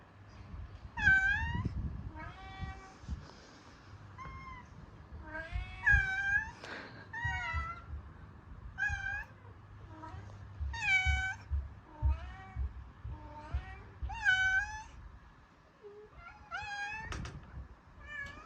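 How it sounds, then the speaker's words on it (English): A Maine Coon cat meows repeatedly at close range, a series of soft rising and falling calls spaced a second or two apart, with faint low rustling underneath and no talking. "They are a vocal cat breed in general, and they communicate a lot with thrills and chirps"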